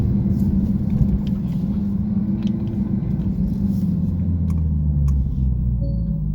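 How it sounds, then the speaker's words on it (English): Porsche Turbo S flat-six engine accelerating, a steady deep rumble heard from inside the car with rising tones as it pulls through the gears, loud and continuous with no talk. "It's just very Porsche, very flat six."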